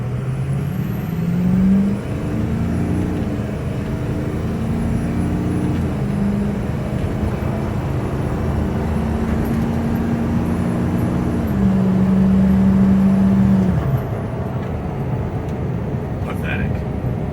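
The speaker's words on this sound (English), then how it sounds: "we'll do our 0 to 60 full throttle" A 6.0L Powerstroke diesel truck with no tune accelerates from 0 to 60 at full throttle. The engine drones loudly and steadily, with rising tones that step up through the gears over about fourteen seconds before the sound eases off.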